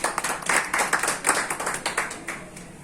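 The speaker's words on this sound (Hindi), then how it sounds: "उनका स्वागत करते हैं तालियों के साथ।" At a bar association meeting, an audience claps to welcome a guest, an advocate. The close, rhythmic applause runs briskly for a few seconds with no talking.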